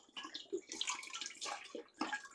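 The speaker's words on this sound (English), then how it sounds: "So I'm just going to dump the whole thing over in the pot there." Four cups of apple cider vinegar poured from a jug into a cooking pot, a steady splashing gush that surges and pauses across a couple of seconds.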